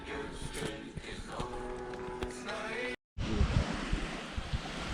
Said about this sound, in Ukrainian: Хвиля піднялася.